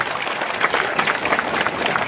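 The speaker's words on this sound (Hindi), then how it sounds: "तो तालियां भी जोर से बजना चाहिए।" Crowd applauding at an outdoor political rally in Kundanpur with former chief minister Digvijaya Singh, a brief burst of continuous clapping from many people at even loudness.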